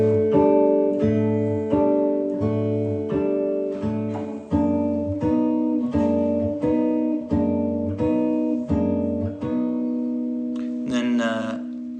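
Acoustic guitar with a capo strums chords from a song, a steady series of ringing strums over about twelve seconds. The progression resolves near the end, where a brief run of sliding higher notes is heard.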